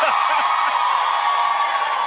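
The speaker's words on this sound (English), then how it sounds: "Clap it up for him" A television studio audience applauds and cheers in a dense, steady wash of clapping and whoops, loud and continuous for a couple of seconds.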